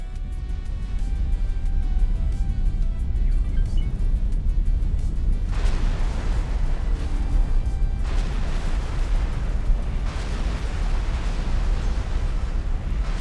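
A Xenon destroyer blowing up in the space game X4 Foundations: a steady, loud roaring rumble with broad bursts swelling in at intervals, like layered booms over continuous engine noise.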